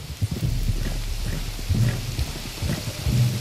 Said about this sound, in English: You were right about the damn rain.